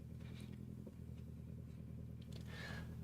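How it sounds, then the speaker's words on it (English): A Subaru Impreza rally car engine drones steadily in the Richard Burns Rally video game, a low, fairly quiet hum with small clatters and a faint rise near the end, and no voices. "Because with the Subaru Impreza is very loud engine."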